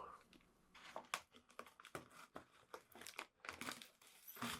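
Close, quiet crinkling and tearing of plastic wrapping being pulled off a CD by hand, in irregular bursts of crackle and rip.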